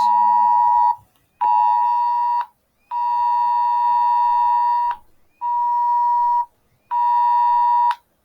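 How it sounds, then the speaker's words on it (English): A phone's emergency alert tone blares in five loud, steady electronic bursts with short gaps between them, with no voices over it. "I just got an emergency alert on my phone right when I was closing the trade"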